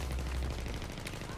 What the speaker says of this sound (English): you can hear all the bullets ricocheting and landing near you